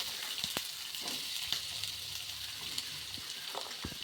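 Sliced onions with turmeric and salt sautéing in a pan for Kerala-style kappa biriyani, a steady close sizzle and hiss with occasional soft clicks of stirring.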